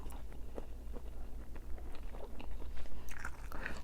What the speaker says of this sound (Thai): ขอเคี้ยวกันนะ เดี๋ยวลูกชิ้นจะเข้าคอ